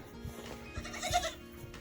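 An older goat doe on a small farm gives a few short, wavering bleats close by, set against quiet barnyard background.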